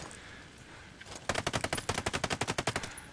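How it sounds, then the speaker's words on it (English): Silenced automatic gunfire in the video game Ghost Recon Breakpoint: a rapid burst of about fourteen evenly spaced, crisp suppressed shots lasting under two seconds, close and clear, with no talking. "the gun sounds so silent. Maybe because I have a silencer on him"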